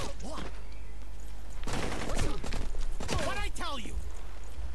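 Automatic rifle fire in the video game Blue Estate rattles in loud, fast bursts against a constant roaring background, with short gaps between volleys and game voices and shouts mixed in.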